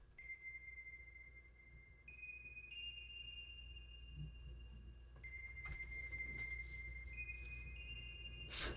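A bell sample treated with delay, chorus, vintage reverb and compression for a West Coast R&B beat, ringing as sustained tones that change pitch, lush and washed out with a smeared, echoing tail over a low rumble.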